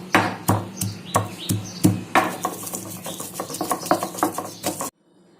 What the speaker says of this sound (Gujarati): ખાંડી લઈશું લસણ